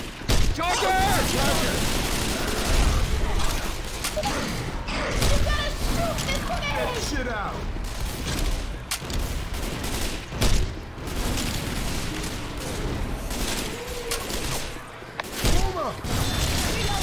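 Chaotic gunfire in a zombie horde video game, with bursts of shots and booms piling up over constant background commotion and frequent talk throughout.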